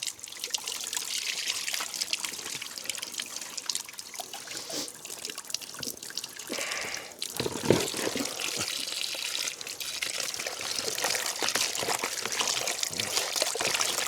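Water pours and splashes steadily into a bowl of river goby fish being rinsed, a continuous close trickle with small gurgles and sloshing throughout.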